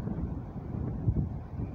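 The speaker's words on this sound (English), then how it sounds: "it's getting a bit windy up here" Wind gusting across a tower rooftop, a low, steady rumble buffeting the microphone in uneven surges for a couple of seconds, with no voices.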